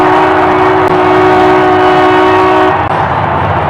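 A train horn blares a sustained two-tone blast over the loud rumble of a passing train, then cuts off as the rolling rail noise continues alone.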